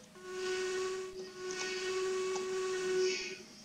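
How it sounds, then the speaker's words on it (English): A steam whistle from an LNER Austerity saddle tank locomotive in Train Simulator 2022 sounds as one sustained, steady tone with a soft hiss. It lasts several seconds, carries clear harmonics, and no one talks over it. "Blow the whistle."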